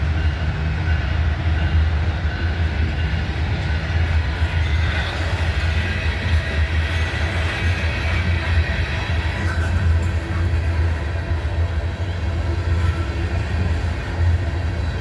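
Manifest freight train rolling past at close range with a continuous heavy rumble and clatter of cars on the rails, steady and loud throughout, no talk.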